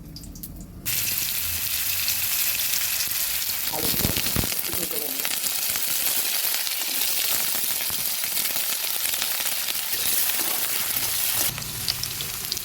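Small diced potato pieces frying in hot oil with panch phoron and chilli in a pan, a loud steady sizzle that swells as they go in and carries on continuously, close up.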